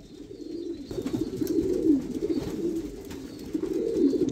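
A male pigeon coos in a steady run of low, throaty, rolling calls, close and fairly soft, with no voices over it.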